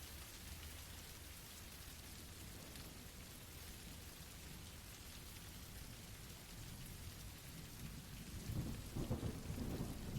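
Steady heavy rain with rumbling thunder, a dense continuous wash of rainfall that swells near the end as a loud thunder roll builds, with no voices.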